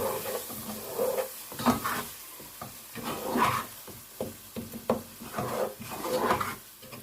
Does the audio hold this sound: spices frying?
yes